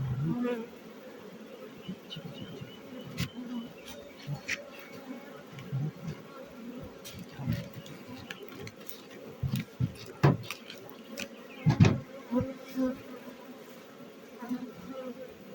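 Honey bees buzz around a swarm high in a poplar tree in a low, continuous drone, with scattered louder bursts and clicks close by.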